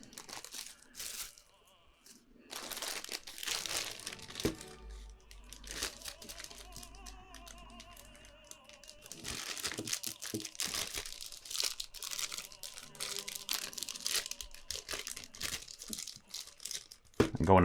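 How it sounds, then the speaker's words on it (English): A zip-top plastic bag is pulled open up close, with continuous crinkling, crackling and rustling of the plastic for the whole stretch and a louder crunch at the end. "I'm going to mano a mano with this plastic bag here."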